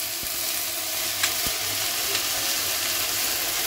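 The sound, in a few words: ginger paste frying in oil with dried chilli and mustard seeds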